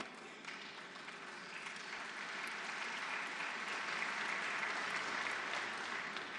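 An audience applauds a speech, the clapping a faint, even wash of many hands that swells slightly and continues steadily throughout.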